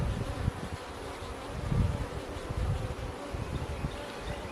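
Honeybees buzz densely and continuously around an open hive during a first hive inspection, a close, steady hum with slight swells and faint rustling, no one speaking.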